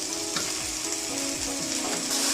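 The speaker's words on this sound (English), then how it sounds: "Next I'm going to add the boiled and mashed dal, that is masoor dal or red lentil" Boiled, mashed masoor dal (red lentils) goes into a sizzling spinach and chickpea curry, giving a steady, close, loud frying hiss with soft stirring scrapes throughout.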